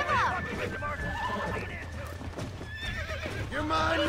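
Horses in the Red Dead Redemption video game whinny loudly several times, with hoofbeats clopping underneath and a player talking over the game.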